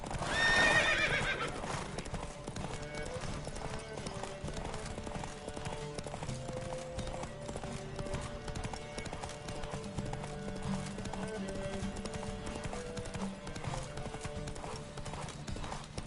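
Horse hooves clip-clop in a rapid gallop during a race in The Witcher 3 on PS5, with a whinny near the start and steady rhythmic hoofbeats over game music throughout.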